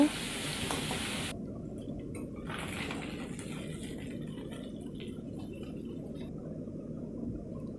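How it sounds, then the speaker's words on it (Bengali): Steady hiss of tengra fish frying in hot mustard oil runs throughout, a continuous sizzle with a brief bright burst at the start. "মাছগুলি উল্টে পাল্টে ভেজে নেব"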